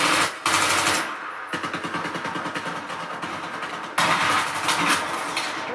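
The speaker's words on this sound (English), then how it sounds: "I unload on him with a machine gun" Sustained automatic machine gun fire from a Battlefield 3 multiplayer match rattles in loud, rapid bursts with brief breaks, dense and close with no speech.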